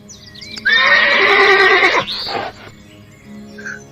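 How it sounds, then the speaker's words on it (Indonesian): A black horse gives one loud, close whinny lasting over a second, trailing off into a breathy snort, set in an audio drama scene. "Kau memang kuda yang penurut."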